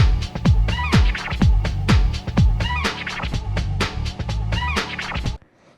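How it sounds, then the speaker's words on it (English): Sped-up 90s hip hop sample loop at 125 BPM pitched down three semitones, a loud repeating beat with heavy low end and regular punchy drum hits, ending abruptly with a short faint tail. "And I'm gonna pitch it down a little bit, actually. Like, let's do -3."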